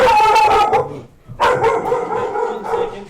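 A dog barks and yips loudly and close by in two bursts separated by a short pause, with whiny, drawn-out tones.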